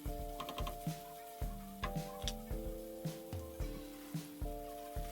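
Ground pork cooking in a pan for an egg roll bowl, with a soft sizzle under a steady run of quiet, regular clicking taps and a faint background hum.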